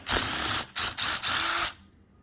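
A power tool spins out a sump bolt on a 14 hp Briggs and Stratton engine, several close, loud bursts of high whine with short gaps between them, then falling quiet.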